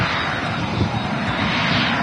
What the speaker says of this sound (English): It's the Gulf Air Dreamliner touching down.